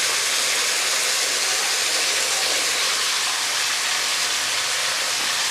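About 100 grams of small onions and twenty garlic cloves sauté in hot oil in a pan, producing a continuous, even frying hiss with no voices over it.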